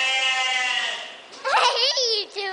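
Large goats bleat close by at a farm feeding, first one long wavering bleat, then a second higher, quavering cry right after, loud and near.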